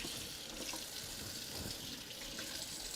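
A faucet runs in a kitchen during meal prep, a steady, soft rush of water into a sink, continuous and unbroken with no voices.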